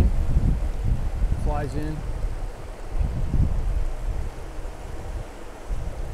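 Steady wind buffets across a river during fly fishing, a low rushing roar with gusts and microphone rumble, while someone speaks briefly over it.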